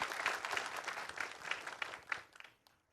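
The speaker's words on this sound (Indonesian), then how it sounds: "Masya Allah, tepuk tangan dulu buat kita semua, luar biasa sekali." Audience applause at an Islamic preaching competition, a dense burst of many hands clapping that swells and then fades away over the last half second.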